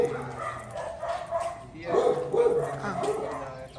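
A dog barks and yips several times in quick bursts, fairly close, with people talking over it.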